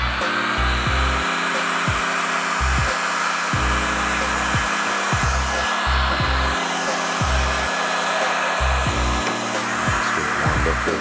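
A heat gun warms the epoxy edge of an ocean wave cutting board, its steady, loud blowing whir running continuously and close by, with brief pulsing dips in the fan tone.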